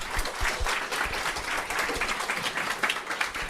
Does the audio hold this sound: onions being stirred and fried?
no